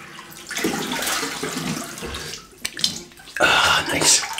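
Cold water running from a bathroom tap as a face is rinsed after a wet shave, splashing in uneven bursts with brief pauses between, close and fairly loud with no talking.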